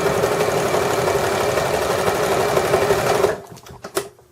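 A sewing machine runs loud and close for just over three seconds, stitching forward and then back across a placemat, before the motor cuts off and a few small clicks follow.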